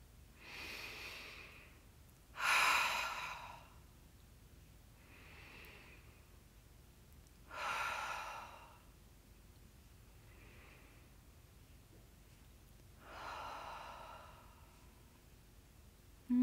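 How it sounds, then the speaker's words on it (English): Deep cleansing breaths during a meditation, slow and close, with three strong inhale and exhale cycles interleaved with softer breaths in a quiet room. "And take like 3 deep cleansing breaths."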